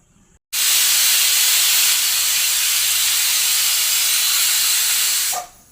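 A pressure cooker cooking toor dal (kandipappu) lets off its second whistle, a loud, steady hissing blast of steam that runs for about five seconds before cutting off abruptly.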